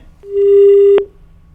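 A single steady telephone tone sounds loud and alone for about a second as a call to a district collector in Udaipur drops, then cuts off sharply into quiet.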